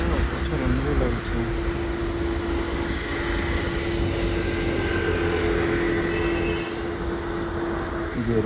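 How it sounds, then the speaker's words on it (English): An Air India Boeing 777-300 takes off from Delhi Airport, a steady broad jet engine roar held at constant loudness throughout, with a tonal whine running under it. "उधर 777-300 of air India is taking of for Mumbai"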